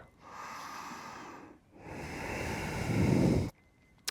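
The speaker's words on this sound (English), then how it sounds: "One more full goodbye breath in and out." Deep yoga breathing, one long audible inhale followed after a short pause by a longer, swelling exhale that ends abruptly, close to the microphone with no talk.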